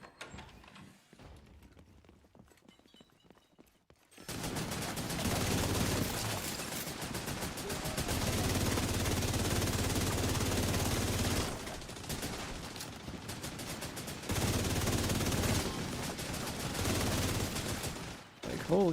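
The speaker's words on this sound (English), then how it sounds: "Watching all the LMG spam, the big tracer rounds" Sustained LMG machine gun fire with tracer rounds in The Division 2, long dense bursts of rapid automatic fire that roar on for seconds with brief pauses, loud and close after a quiet start.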